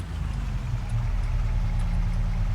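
A farm truck's engine idles in Farming Simulator, a steady low rumble with a faint clip-clop rattle, close and continuous with no voices.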